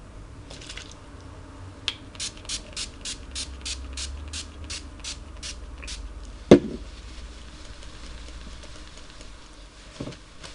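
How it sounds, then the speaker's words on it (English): A rapid series of short, soft puffs of NYX Dewy Finish setting spray onto a face, about a dozen in quick rhythm, followed by a click and a few fainter spritzes. "I spray my face once again with the NYX Dewy Finish setting spray."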